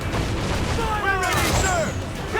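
A ship's broadside of cannon fire in Assassin's Creed 4 Black Flag, heavy booms rolling under shouted orders and sea-battle noise, with a whistling projectile sound in the middle.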